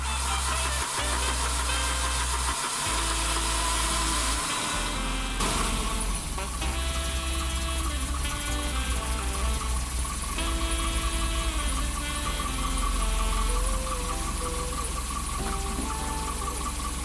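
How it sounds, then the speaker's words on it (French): A Volvo 740 engine cranks and catches after a few seconds, then settles into a steady mid-pitched idle with occasional faint squeals, loud and close. "puis on démarre le moteur."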